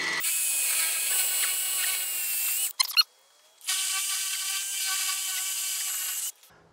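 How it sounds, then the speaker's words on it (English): A concrete drill bores pilot holes into cinder block in two loud, close bursts of high-pitched grinding whine, separated by a short pause with a few clatters, each burst stopping abruptly. "I've got a concrete drill because I'm going into cinder block. So I'm just gonna pre-drill these holes."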